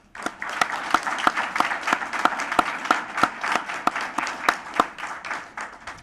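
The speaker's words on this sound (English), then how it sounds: "let's give this special group of 18 individuals one final round of applause." Audience applause for a group of honored teachers at the close of a 2015 Teacher of the Year luncheon, with steady, evenly spaced claps from a moderate crowd sounding fairly near.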